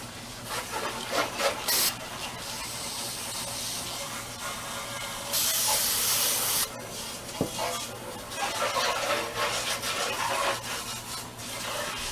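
Carburetor cleaner sprays through the holes of a 12 hp Murray lawn tractor carburetor, with close hissing bursts, one loud blast in the middle, and scraping and handling noises between sprays.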